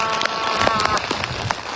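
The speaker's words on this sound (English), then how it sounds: "The rain is intensifying." Heavy, windy rain from Hurricane Milton pours in a dense, steady hiss close by, with someone speaking over it.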